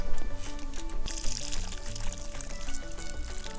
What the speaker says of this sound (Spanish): vamos a colar el agua